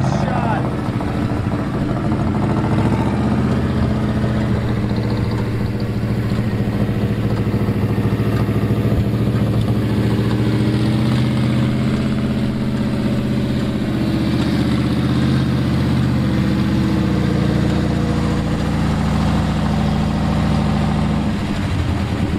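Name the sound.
old Ford dump truck engine running and idling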